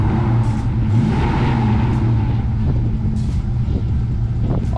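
A 1990 Ford Mustang GT with the 5.0 engine runs just after starting, a close, loud, low rumble at a steady idle with slight fluctuations.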